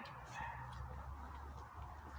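Fowl, probably a chicken, calling softly and briefly over a steady low hum in a calm village setting, no voices present.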